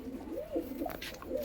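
A white Punjabi pigeon with yellow eyes coos close by in soft, rolling, repeated calls, a few throaty phrases rising and falling over a quiet background.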